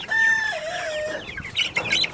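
A rooster crows loudly up close, followed by a burst of hen clucking and squawks, with no talking.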